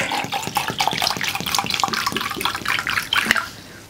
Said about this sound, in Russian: Все, водичка пошла, моментально начала впитываться.